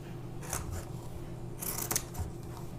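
Scissors trim fabric scraps for a handmade scarf, a few quiet crisp snips standing alone over a low steady background hum.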